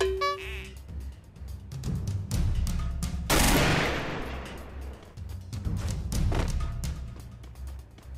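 Bursts of SCAR rifle fire in the mobile shooter Free Fire come in rapid repeated volleys with heavy thumps across the clip. They sit over background game sound and faint voice.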